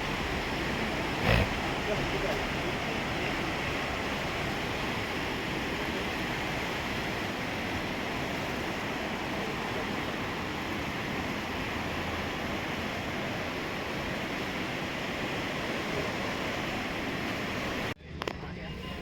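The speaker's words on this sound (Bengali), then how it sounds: "এখানে তার বৃহৎ আকার প্রচণ্ড জলের স্রোত" A wide, powerful Alaknanda river rushes along in a strong current, giving a steady, loud roar that fills the whole stretch. It stays unbroken until a brief disturbance near the end.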